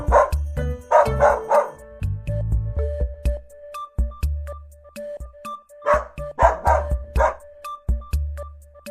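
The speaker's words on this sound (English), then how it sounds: "He was followed by a pack of dogs who always chased him." A pack of dogs barks in a chase, coming in quick clusters of sharp, loud barks separated by short pauses, with a steady background tone beneath them.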